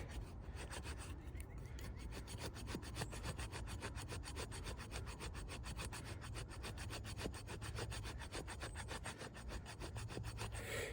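Steel knife in Sleipner steel, a Beating Heart clone, drawn along a sharpening surface at the choil, giving a steady, close rasping scrape of rapid repeated strokes that runs continuously throughout.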